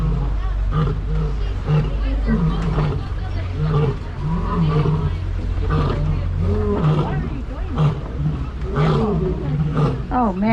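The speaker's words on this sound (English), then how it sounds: "Now you heard what a real lion sounds like when they roar." Several lions at Kilimanjaro Safaris roar in repeated deep, grunting bursts, loud and close, with a safari vehicle's engine rumbling underneath.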